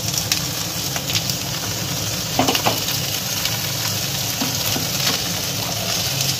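Boiled potatoes fry in hot mustard oil, giving a steady close sizzle throughout, with a few brief stirring scrapes and clinks partway through.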